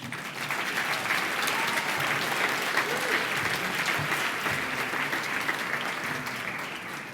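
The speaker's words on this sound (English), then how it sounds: "the people at GOSO deserve a round of applause" A gala audience gives a sustained round of applause that fills the room, even and steady for several seconds before easing slightly at the end.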